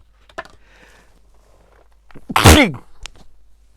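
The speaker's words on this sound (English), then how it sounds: "sorry, just sneezed." A single loud, close human sneeze with a sharp burst, preceded by a faint inhale and a few small thumps in an otherwise quiet room.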